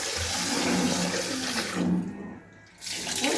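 Toor dal is being washed under running water, a close, steady splashing stream that drops away briefly and then resumes.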